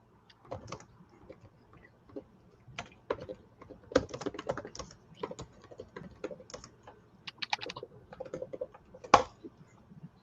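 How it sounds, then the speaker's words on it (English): Keys on a computer keyboard are tapped in uneven bursts, soft clicks with a few sharper strokes, close by and fairly quiet, with no talking. "I can hear the tapping."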